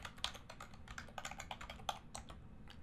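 A username and password are typed on a computer keyboard as a quick, uneven run of close key clicks with short pauses between bursts.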